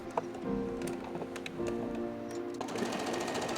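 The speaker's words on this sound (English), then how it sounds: "And as the last step, I'm gonna top stitch that opening," A sewing machine top-stitches the elastic opening on a child's elasticated trousers, running close and steadily with a rapid mechanical chatter that changes speed partway through.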